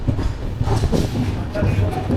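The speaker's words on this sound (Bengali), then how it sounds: "ট্রেন কিন্তু এখন ছেড়ে দিল তমলুক স্টেশন থেকে।" Passenger train pulling out of Tamluk station on the Howrah to Digha line, heard from on board as a steady loud rumble and rattle of the carriages, with voices talking over it.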